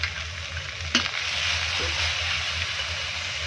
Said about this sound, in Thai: คั่วเครื่องที่เราโขสมุนไพรให้หอมๆกันนะ